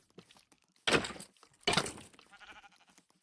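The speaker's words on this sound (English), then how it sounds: "That's a sheep over there." A Minecraft sheep gives two short bleats in quick succession, near and fairly loud, with a softer trailing sound after them and quiet gaps between.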